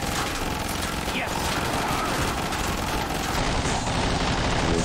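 Dense, continuous rapid gunfire in the Destiny 2 video game, like a busy gun range, loud and overlapping, with a voice talking underneath.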